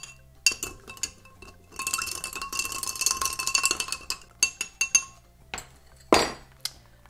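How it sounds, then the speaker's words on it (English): A small bar spoon stirs a cocktail over ice, giving a close, steady run of bright clinks and rattling against the glass, then a few separate clinks as it slows. "I'm going to give it a little stir with my little scully spoon"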